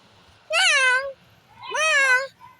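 A voice imitates a cat, giving two drawn-out meows with a short pause between them.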